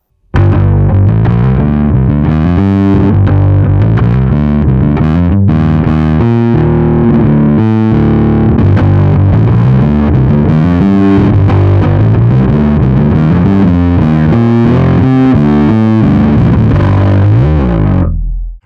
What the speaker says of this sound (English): Stacking overdrive and distortion lets you layer warmth with aggression